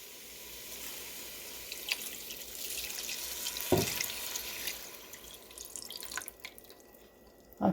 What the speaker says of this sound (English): So here comes the clam liquid.